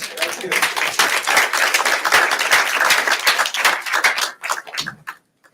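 Applause from a lunch-and-learn audience after a genealogy talk, dense and sustained clapping that thins out and fades to scattered claps before stopping.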